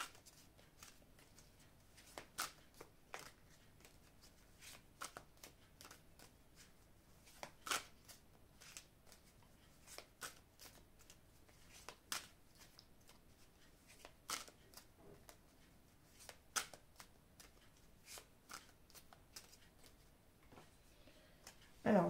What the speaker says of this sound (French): je vais couper le jeu et je vais recouvrir les cartes